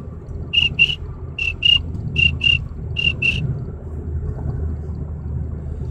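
A man whistles an imitation of a cricket, four pairs of short high chirps in a steady rhythm, heard over the low rumble of a car driving.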